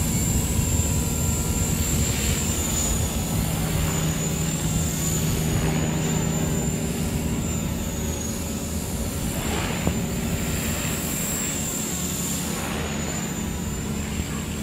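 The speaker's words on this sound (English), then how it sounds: "I'm flying in a very small, confined space, and this helicopter handles really nicely." Walkera V400D02 six-channel flybarless RC helicopter with stock brushed motor flying aerobatics in a small confined space, giving a steady high-pitched whine over a broad rotor and motor hum throughout.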